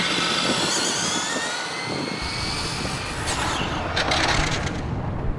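Losi 22S RC car driving and braking, a loud high-pitched motor whine with shifting pitch and gravelly rolling noise, rising in bursts near the end.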